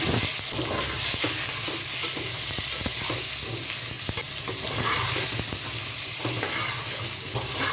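Pointed gourd (potol) pieces sizzle steadily in hot oil in a pan with chicken, a continuous close frying hiss broken by occasional clinks of a stirring spatula.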